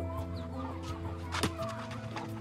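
Chickens clucking in rural Kenya, several birds giving short, repeated clucks close by over a steady low background hum, with one brief louder squawk midway.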